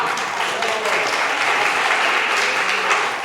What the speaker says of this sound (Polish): witamy i za oklaski dziękujemy